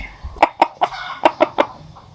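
A fighting rooster clucking as it is put into a carrying bag, about six sharp, close clucks in an uneven series, fairly loud against a quiet background.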